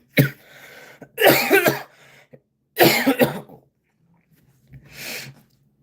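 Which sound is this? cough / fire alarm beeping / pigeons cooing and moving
cough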